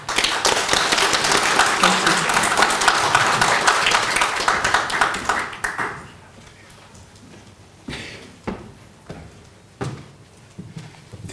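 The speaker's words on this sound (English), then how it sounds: "to thank the team with a round of applause" Loud, dense applause from an audience at a national budget guide launch lasts about six seconds and then stops abruptly, followed by quiet room noise and a few scattered thumps and knocks.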